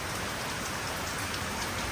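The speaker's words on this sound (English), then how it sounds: "The rain still falling" Steady rain pours onto Georgetown streets, a dense, even hiss of drops on wet surfaces that continues without a break and without any voices.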